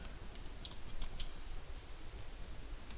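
Quick clatter of keystrokes on a computer keyboard, close and moderately quiet, a short continuous burst of typing with no voices.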